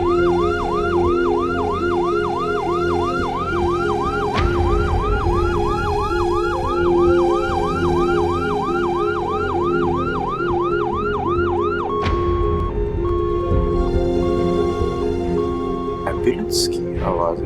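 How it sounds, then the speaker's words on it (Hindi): A loud ambulance siren in a Pakistani TV drama wails in rapid rising-falling cycles, then shifts to a slower two-tone pattern, with voices talking underneath. "एम्बुलेंस की आवाज है।"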